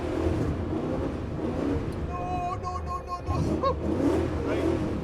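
A Nissan Skyline drifting on a frozen track gives a steady low engine rumble with a brief high revving whine in the middle, heard under a voice.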